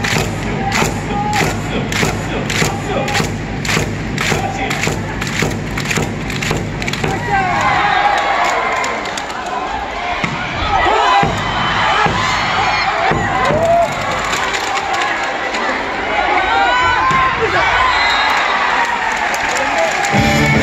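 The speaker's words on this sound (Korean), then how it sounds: "박수! 박수!" A crowd in the Uijeongbu Gymnasium claps in rhythmic unison, with loud evenly spaced beats, then breaks into looser, noisy cheering and crowd chatter.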